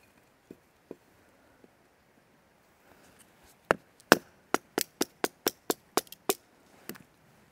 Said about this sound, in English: I'm going to keep producing some kindling. Cutting this down.